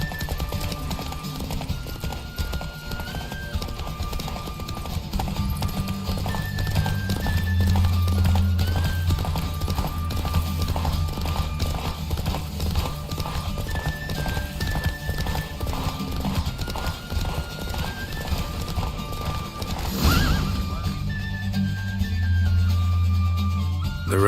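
A horse gallops in a race in The Witcher 3, its rhythmic hoofbeats drumming steadily and loudly throughout, with game music tones and occasional whinnies alongside.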